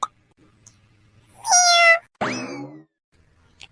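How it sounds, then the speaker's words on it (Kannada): A kitten meows twice in a classroom, two clear, drawn-out cries separated by a short pause, close and distinct against a quiet background with a few faint clicks. "ಸ್ಟೂಡೆಂಟ್ಸ್ ಇಲ್ಲೆಲ್ಲಾದ್ರೂ ಬೆಕ್ ಬಂದಿದ್ಯಾ ನೋಡಿ ಏನೋ ಮಿಯಾವ್ ಅಂತ ಸೌಂಡ್ ಬರ್ತಿದೆ"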